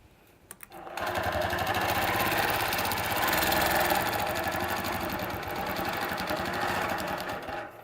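Long-arm sewing machine stitching scrolling borders on a quilt with an S-curve template, a steady, loud mechanical whir with rapid rhythmic needle chatter that starts after a brief pause and runs continuously.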